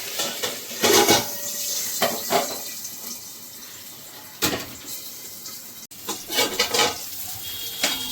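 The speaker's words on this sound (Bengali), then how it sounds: "তো লেজাটা আরেকটু ভাজা হবে একটা সাইড।" A hilsa fish tail frying on one side in oil in a kadai makes a soft sizzle, broken by several sharp scraping and clattering bursts of a utensil against the pan, close by and without speech.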